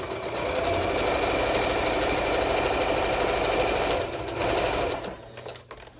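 A sewing machine stitches a seam on a child's fabric face mask, running steadily at speed with a dense mechanical whir, slowing and stopping near the end.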